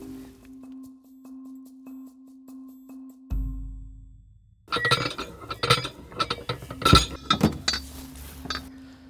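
A car toolkit and jack come out of the boot compartment: after a quiet stretch with a low hum, a burst of metallic clinks, knocks and rattles follows as tools are handled close by.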